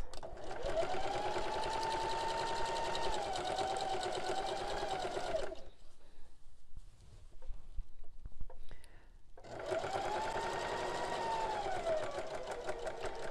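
A sewing machine stitching fabric runs in a steady, close whir for several seconds, pauses briefly, then starts again with the same even motor hum and rapid needle rhythm.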